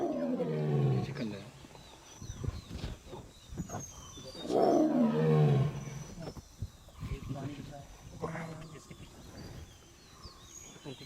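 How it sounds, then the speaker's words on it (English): Tigers in Bandhavgarh National Park, India, give low roars and growls in bursts amid the safari outdoors, with people talking quietly near them. "Okay, the tigers are walking. The tigers are walking. Wait, I can hear them."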